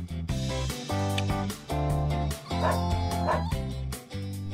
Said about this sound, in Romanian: E o cățelușă!